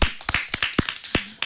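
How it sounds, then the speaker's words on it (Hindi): Children clapping at an indoor gathering, a short run of irregular, sharp hand claps, close and fairly loud, with a few separate beats rather than full sustained applause. "तालियां होनी चाहिए।"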